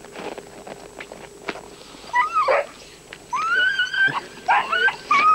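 A sled dog team on an island gives off high whimpers, whines and sharp yips in irregular bursts, close and fairly loud, with soft scuffs and knocks between the cries.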